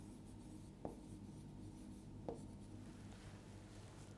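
A pen or marker writes on a board during a reasoning lesson, giving faint continuous scratching with two brief, sharp taps over a low room hum.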